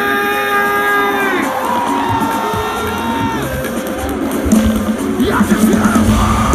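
A Warped Tour concert crowd screams, whoops and cheers loudly in a sustained roar, with rising shouts near the end.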